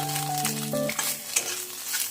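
An egg fries in oil in a kadai, a steady close sizzle with a few stirring scrapes, briefly overlaid at the start by a tonal background hum.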